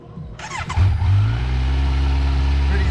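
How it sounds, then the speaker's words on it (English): A starter whirs briefly, then a 2021 Kawasaki Z900 motorcycle engine with stock exhaust catches on a cold start and settles into a steady, loud idle with a deep rumbling drone. "We're gonna be doing a nice little cold start."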